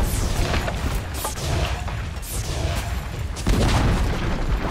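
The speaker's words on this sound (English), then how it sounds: "Dire's bottom tower has fallen" Booming, crashing game explosions and impacts from a Dota 2 match where a bottom tower is being destroyed, several dense bursts layered over continuous battle noise, loud and close throughout.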